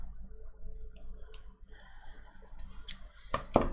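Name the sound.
cutting paper planner pages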